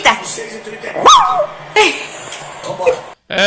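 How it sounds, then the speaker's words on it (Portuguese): A small dog gives a few high, sharp yips and barks during a lively live broadcast, its calls rising over loud nearby talk and shouting. "É o cachorrinho da irmã de compadre Gesso"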